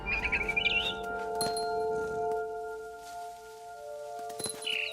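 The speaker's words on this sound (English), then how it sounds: "Then I heard chirping outside my window. It was a barn swallow going back to her nest." A barn swallow chirps in the video game What Remains of Edith Finch, a few quick bright twitters early on, then fainter calls over a sustained musical drone with soft rustling.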